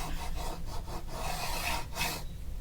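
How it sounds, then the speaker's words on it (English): Masking tape is rubbed firmly down onto a wooden guitar neck with quick, repeated scraping strokes, close and fairly quiet. "Burnishing it down helps it to sort of seal itself."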